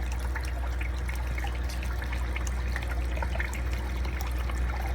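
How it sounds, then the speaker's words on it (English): Water trickles and flows steadily through an aquarium sump, entering from the main drain and running past titanium heaters into the first filtration stage, a continuous close-up gurgle over a low pump hum with no speech. "Water comes in from the main drain"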